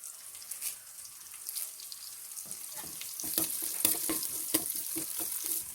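Small shallots frying and sizzling in a pan for Kottayam-style Kerala kappa biriyani, with a steady crackling hiss that grows busier midway, joined by stirring clatter and occasional sharp pops.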